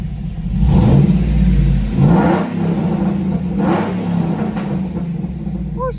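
A loud, tuned 2008 Chevrolet Impala engine revs hard from inside the car, a deep roaring surge that eases off and swells again, with light popping exhaust crackles near the end.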